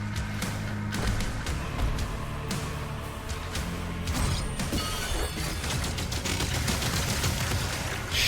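Rapid machine gun fire in Doom: The Dark Ages, aimed at a cyber demon. Dense, continuous mechanical clatter and crashes fill the whole stretch, loud and close, with layered game effects and no talking.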